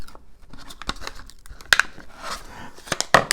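A table tennis rubber sheet being peeled off a blade coated with water-based glue, giving close, sharp crackling and tearing snaps in irregular bursts with a few louder pops.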